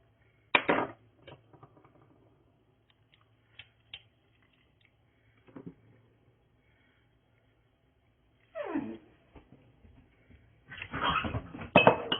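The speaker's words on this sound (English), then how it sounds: "Hear them pups, y'all?" Puppies indoors in a kitchen, otherwise quiet, let out short scattered yips and scuffles: a sharp burst at the start, a few faint taps, then louder bouts of barking and play noise near the end.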